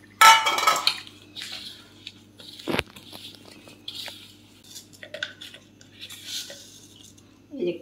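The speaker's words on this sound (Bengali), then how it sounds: "এটা সুন্দর করে ব্যাটার তৈরি করে নিতে হবে" Batter for bok phool (bok flower) fritters being mixed in a bowl with a little kalo jeere, giving intermittent scraping and clinking strokes, loudest at the start, with a sharp knock partway through.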